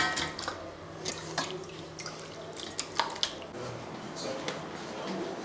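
Water dripping and splashing as washed meat for a Kerala rib curry is drained in a kitchen, with soft squishy handling sounds and scattered drips, moderately quiet throughout.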